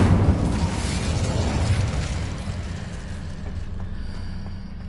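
Incendio fire spell cast in Hogwarts Legacy, a loud whooshing blast that starts strong and slowly fades into a lingering rumble, with no talking.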